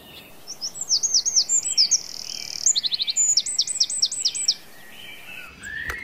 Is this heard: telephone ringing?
no